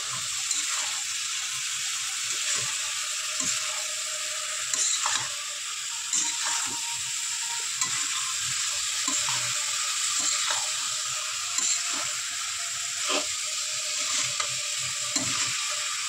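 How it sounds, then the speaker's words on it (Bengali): Chicken liver fries in a pan with cumin and chili pickle while a utensil stirs it repeatedly, producing a continuous close sizzle broken by rhythmic scraping strokes across the pan. "দিয়ে ভালো করে নেড়ে চেড়ে দেবো।"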